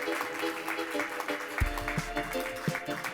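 Modest applause from an audience at an editorial prize ceremony welcoming the president to the stage, fairly faint, scattered clapping with a brief thump midway.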